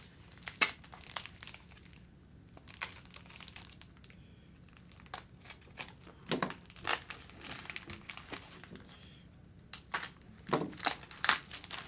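A plastic team bag holding a sports card is unwrapped, with close, loud crinkling and tearing bursts scattered across the clip and quiet gaps between them.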